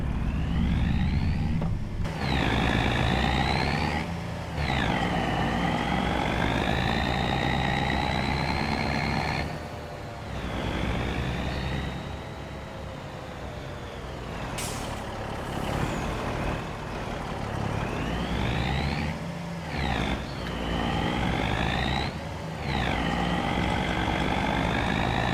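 Road traffic with trucks in Farming Simulator 25: heavy engines rumble continuously with rising and falling gear-shift whines as vehicles accelerate past, a brief air-brake hiss midway, fairly loud and close.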